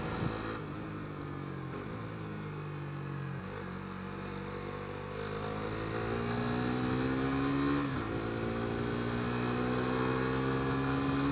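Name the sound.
Suzuki GSX-S125 motorcycle engine braking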